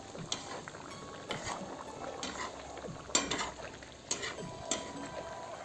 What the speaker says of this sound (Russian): Морковь нужно прожарить до вялого ее состояния.